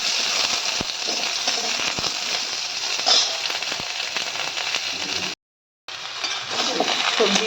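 Bitter gourd and mixed vegetables frying in a hot pan, a dense continuous sizzle and crackle with brief pops, close and fairly loud, cutting out for a moment before resuming.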